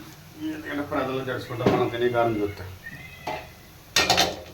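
Chili powder being stirred into fried onion masala in a pan for a fish curry, with close metal spoon scrapes and clinks over a light sizzle, while a person talks over most of it.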